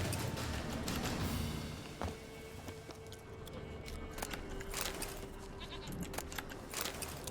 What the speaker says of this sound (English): Oh, I heard a goat.